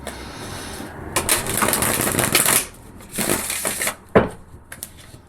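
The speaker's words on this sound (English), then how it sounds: "Let's give these a shuffle." Tarot cards riffle and rustle close up in a few quick bursts of shuffling, with brief pauses and a soft tap between them.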